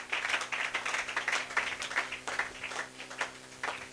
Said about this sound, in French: Donnez-lui une acclamation pour vous asseoir si vous le voulez.